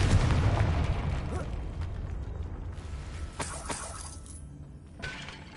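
A Confringo blasting spell goes off in Hogwarts Legacy, a loud booming burst at the start that rumbles and crackles away over several seconds, with a few sharp shattering pops later on.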